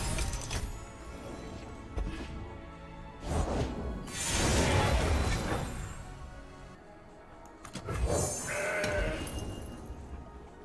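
In the Legends of Runeterra card game, the Mountain Goat card gives a bleating goat call, a few bleats heard among whooshing and impact effects.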